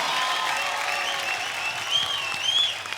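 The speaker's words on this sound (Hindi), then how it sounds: "एक बार जोरदार तालियां कटरीना कैफ के लिए" A studio audience at a comedy talk show breaks into loud, sustained applause for Katrina Kaif, with bright cheers and whistles rising over the clapping toward the end.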